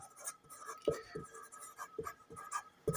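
Chalk or marker scratching on a board during a math lesson, short strokes and taps in a quick irregular rhythm alongside quiet speech.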